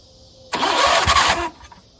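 A Craftsman riding mower engine catches and roars loudly for about a second after a cranking start, then cuts out and falls quiet, with no talk over it.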